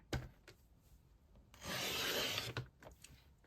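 A paper trimmer cutting paper for a small gift bag: a few faint taps and knocks as the paper is set, then a soft sliding slice lasting about a second, followed by light handling sounds.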